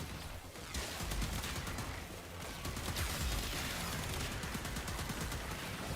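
Gunfire in Warframe pounding a tough boss during an Archon Hunt, a dense continuous barrage of shots and impacts layered with busy game effects, steady and fairly loud throughout.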